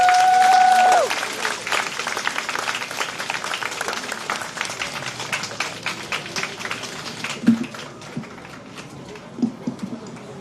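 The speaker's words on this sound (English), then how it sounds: "Another round of applause for the Honorable Cora Richardson Hodge." An audience breaks into applause after a speech, a sustained patter of many hands clapping in a hall that fades gradually, with a few louder isolated claps near the end.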